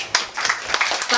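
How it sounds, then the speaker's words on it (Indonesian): An audience at a trade union gathering claps together in a brief burst of dense, steady applause that fills the room with no clear voices on top. "Tepuk tangan untuk kita semua."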